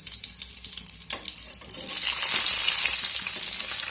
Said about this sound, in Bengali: এবার পেঁয়াজ টমেটোটাকে একটু নাড়াচাড়া করে ভেজে নেব